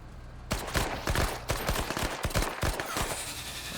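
Rapid bursts of SMG fire crackle in the strategy game Menace, sharp repeated shots clustered in quick volleys after a quiet start, loud and close with no talk.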